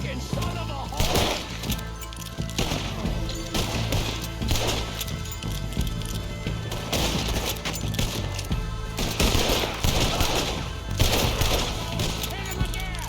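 Repeated gunshots ring out in a Red Dead Redemption 2 shootout during a distillery mission, sharp bursts arriving in irregular clusters over a dense game soundtrack, with shouting voices mixed in.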